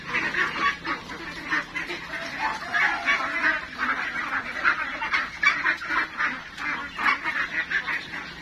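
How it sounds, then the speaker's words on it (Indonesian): A flock of ducks quacks and honks continuously and loudly at close range as they are driven into their pen, a dense overlapping chatter throughout. "Ini lagi ngandangin bebek ya."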